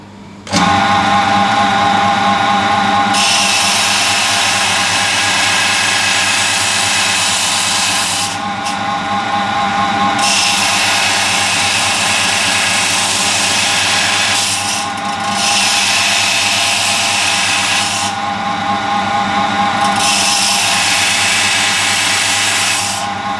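A powered saw blade slices an agate stone into four or five pieces, a loud, continuous grinding whine that swells and dips as each cut starts and ends, with brief pauses between cuts and no talking.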